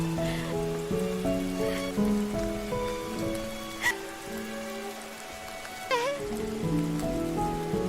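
Heavy rain pours steadily on a surface throughout, mixed with a sustained musical score and a few sharp transient accents.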